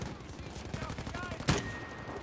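Rapid gunfire bursts from a gun in the Battlefield V video game crackle at a moderate level, ending in one louder sharp shot, with talk heard alongside.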